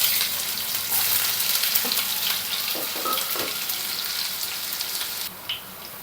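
Thinly sliced onions fry in hot oil with urad dal and fenugreek seeds, a dense rain-like crackling sizzle up close, with a few soft stirring knocks partway through and no speech.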